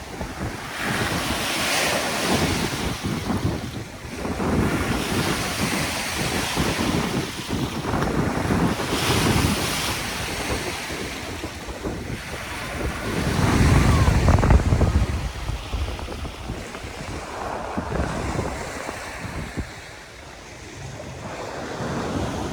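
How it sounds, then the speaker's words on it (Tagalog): Heavy surf crashes and rolls continuously at Manila Bay's Dolomite Beach, with loud wind buffeting the microphone throughout; one especially powerful wave surges near the middle. "Ay, malakas yung alon ah."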